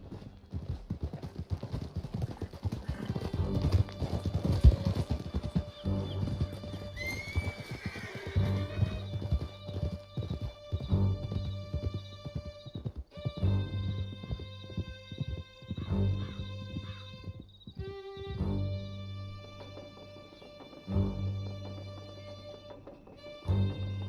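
A horse gallops through a canyon in Red Dead Redemption 2. Steady clip-clopping hoofbeats come with neighs and whinnies, with music-like tones layered in and no talking.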